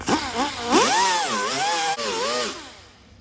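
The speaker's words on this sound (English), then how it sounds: "I got my little 3-inch baby grinder. It's got a 36 grit disc on it. I'm going to grind this to bare metal" Small 3-inch grinder with a 36 grit disc grinding a BMW fender down to bare metal, its motor whine rising and falling in pitch as the load shifts, loud and close, then tailing off at the end.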